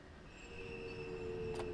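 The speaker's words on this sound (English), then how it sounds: "We're getting major wheel slip because the tracks are icy." Wheels squealing and slipping on icy rails in the Train Sim World 5 game, a steady high whine with rumbling rail noise, building slightly louder and continuing throughout.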